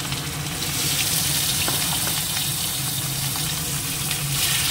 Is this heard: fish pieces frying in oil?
yes